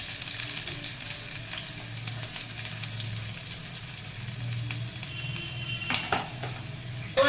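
Cumin seeds frying in oil in a pan for a drumstick tomato curry, a steady close sizzle with a low hum beneath, broken near the end by a few sharp clinks of utensils against the pan.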